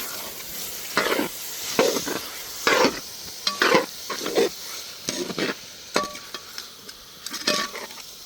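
Ground masala for navaratna kurma sautéed in a pan with a spoon: a soft sizzle under repeated scraping and stirring strokes, with occasional metallic clinks against the pan.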